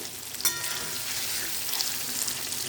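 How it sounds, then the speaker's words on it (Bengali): Steady crackling sizzle of paneer frying in a hot pan, with a sharper pop near the start and a few faint clinks over the hiss. "পনিরটা ভাজা হচ্ছে"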